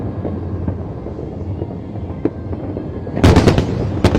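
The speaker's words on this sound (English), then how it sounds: "the fireworks go off" Lunar New Year fireworks fired from barges over Victoria Harbour, Hong Kong: a steady distant rumble and crackle, then a cluster of loud, sharp bursts near the end, with wind noise on the microphone.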